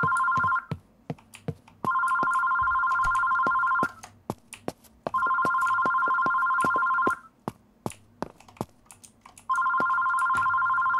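A telephone ringing in the kitchen of the horror video game Terroro: repeated two-second bursts of trilling electronic ring, separated by pauses filled with sharp keyboard and mouse clicks.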